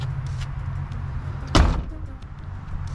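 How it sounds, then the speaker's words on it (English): A Foxbody Mustang door shuts once with a single solid thump over a low idling hum, close by and fairly loud. "these doors shut really good"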